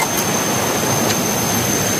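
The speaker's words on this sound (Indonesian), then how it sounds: "Sebelah sana air terjunnya. Bukan air terjun sih, air air jatuh" Rushing water of a fast river with small falls in the middle of a forest, a steady dense hiss and roar, close and continuous with no voices.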